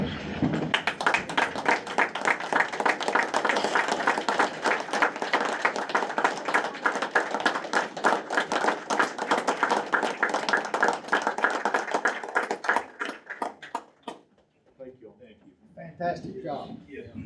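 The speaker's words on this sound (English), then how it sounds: "I'd ask everybody to stand and give them a round of applause." A standing audience at a school board meeting applauds the Boone cadets, dense clapping that runs for about thirteen seconds before cutting off, followed by brief murmuring voices.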